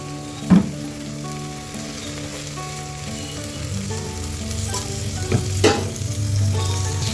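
Carrots, beans and tomato frying for vegetable biryani, a steady sizzle in the pan broken by a few sharp clatters of stirring.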